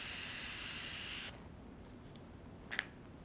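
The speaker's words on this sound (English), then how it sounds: "do spray it once more" Spray paint hisses in one steady, close burst onto a vintage glass bottle for about a second and a half, then stops abruptly, followed by near-quiet with a faint tap or click.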